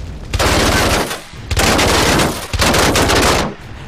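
Sustained machine gun fire from aircraft guns in the IL-2 Sturmovik WWII flight combat game, three long loud bursts of rapid rattling shots separated by brief pauses.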